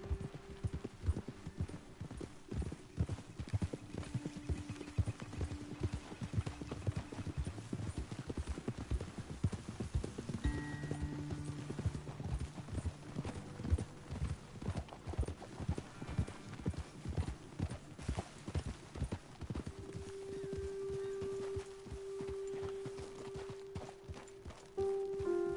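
Horses' hooves clip-clop steadily on a trail in the video game Red Dead Redemption 2, several animals walking at an unhurried pace, with faint ambient tones beneath and no voices.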